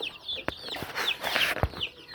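Month-old desi chicken chicks peeping and clucking close by, a series of short high chirps scattered across a couple of seconds with small knocks between them, no talk.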